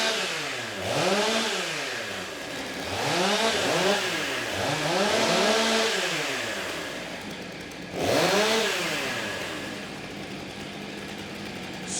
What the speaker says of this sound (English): Athletes ready. Start your saws.